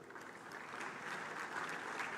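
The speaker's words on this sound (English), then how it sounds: "Please welcome him warmly with a round of applause." A hall audience at a trade bank's annual meetings gives a round of applause, a soft, distant wash of steady clapping that holds at an even level without pause.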